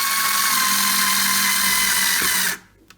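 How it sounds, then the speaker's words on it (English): A power drill runs steadily in reverse, backing a screw out of a kitchen wall cabinet, a loud close whine for about two and a half seconds before cutting off abruptly into near silence. "So we're unscrewing the top screw anti-clockwise."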